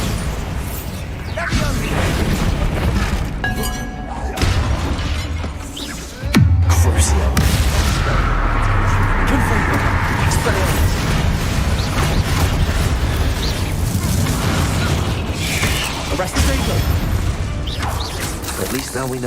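Spell blasts from Bombarda and Confringo in Hogwarts Legacy: loud crashing bursts and booming impacts over a constant roar of battle, with a sharp explosive hit midway, while a voice shouts spell names throughout.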